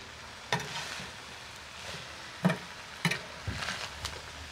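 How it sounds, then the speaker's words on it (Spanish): Vegetables sizzle softly in a pan while a spoon stirs them, making several distinct scraping knocks against the pan over a low, steady frying hiss. "Le vamos a mover muy bien y vamos a dejar que se sancoche poquito la verdura."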